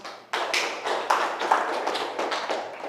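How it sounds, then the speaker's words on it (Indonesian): A short burst of applause for two students, Risma and Arif, in a classroom, with a few people clapping unevenly for about two and a half seconds before fading. "kasih aplaus"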